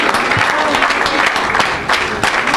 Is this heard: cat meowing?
no